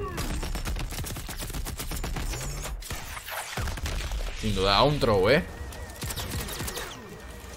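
Rapid gunfire and mechanical weapon effects from Mortal Kombat 11 in a tournament match, a busy rattling burst of shots with a rising whooshing missile-like sweep midway, under excited commentary.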